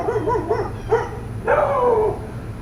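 Several dogs bark and yip in short bursts, a few quick yaps followed by a longer, rising bark, fairly close over a steady low background hum.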